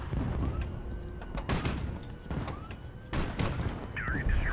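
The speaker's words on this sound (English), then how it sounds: "I'm actually going to use a missile on the Sarma here" A missile launched at an enemy ship in the naval combat game Highfleet, heard as heavy booming thuds and bursts of gunfire in a busy battle, with a rising whine near the end.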